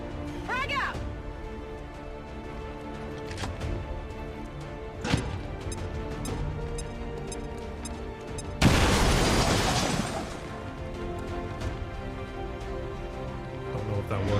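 A frag grenade detonates in XCOM 2, one sudden loud blast with a crackling tail partway through, over quieter game sounds and ambience beforehand.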